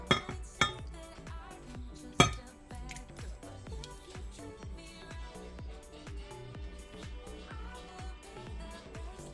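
Salsa and enchilada sauce are stirred together in a cup, giving a quiet rhythmic scraping and clinking of a spoon against the container, with a couple of louder knocks near the start.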